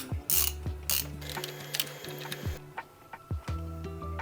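Close mechanical ratcheting clicks and metallic scraping come in short bursts as a fitting is loosened on a flood-damaged BMW M135i xDrive with a seized engine, with quiet pauses between.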